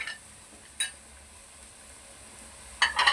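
Chili and turmeric stir-fried in a pan for masoor dal with lauki: a soft, steady sizzle broken by a few sharp scrapes and clinks of a spoon against the pan, with no talking.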